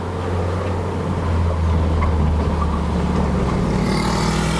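A Proton Inspira 2.0P with a bolt-on turbo and a CVT accelerates hard toward the red line. The engine drones loudly and steadily from inside the car, building slightly midway.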